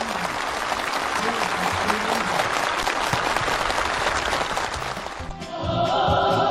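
Enthusiastic applause from a gathering of party officials and farm workers at a new-housing handover ceremony in Hamhung, South Hamgyong; loud, continuous massed clapping for about five seconds, then music and voices take over.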